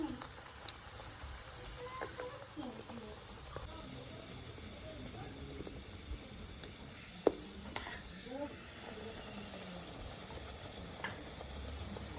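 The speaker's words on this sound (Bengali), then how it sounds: "সমস্ত তালের লুচিগুলো ভাজা হয়ে গেছে খুব সুন্দর ফুলেছে" Palm fruit luchi deep-fry in hot oil, giving a steady low sizzle and bubbling with occasional sharp pops and clinks, under faint background voices.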